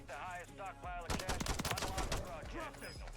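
Gunfire in an online shooter video game, a rapid cluster of sharp shots in the last two seconds, following a short stretch of someone talking, moderately loud.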